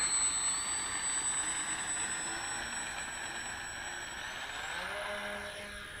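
The engines of a Junkers Ju 52 roar during takeoff with little flap set, a loud, steady drone with shifting whining tones that eases slightly over time. No one speaks.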